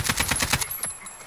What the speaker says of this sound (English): I just shot him.